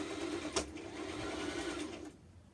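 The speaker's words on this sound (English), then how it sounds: "I'm going to stitch this dress together. Now I'm going to back stitch." A sewing machine back stitches a seam on a handmade dress, its steady motor whir running nearby for about two seconds before stopping, with one brief louder clack early on.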